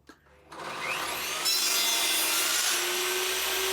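A hand saw cuts a mitre in hardwood with a continuous, rasping stroke, close and steady after a short knock at the start, with no talking.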